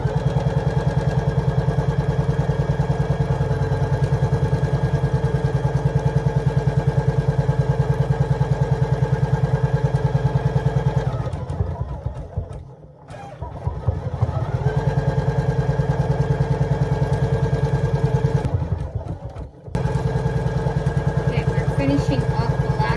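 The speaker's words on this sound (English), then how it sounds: "And it's going to do the second round of stitching." An embroidery machine running a second round of stitching on a Valentine's XOXO design, a loud steady mechanical whir and rapid clatter that dips briefly twice before resuming.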